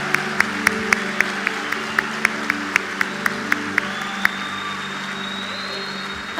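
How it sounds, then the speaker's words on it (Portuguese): A church congregation applauds in a steady wash of clapping, with a few sharp louder claps standing out in a regular rhythm over the first four seconds before the sound settles into a softer continuous patter. "Aplauda Jesus."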